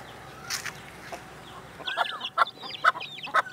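Chickens and a rooster cluck near their coop in a village farmyard at evening, a few soft calls early and then a run of sharper, louder clucks in quick succession.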